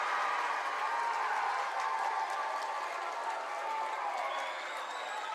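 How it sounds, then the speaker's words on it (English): A high school basketball student section applauds a made layup in a gym, dense sustained clapping from a large crowd filling the space, steady and loud throughout. "the student section gives him a round of applause"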